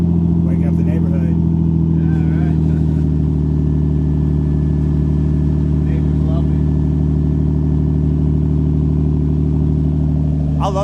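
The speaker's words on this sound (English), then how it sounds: "I love the sound of RB25," A Nissan RB25 straight-six engine idles loudly and steadily up close, a deep, even rumble with faint voices briefly audible in the background.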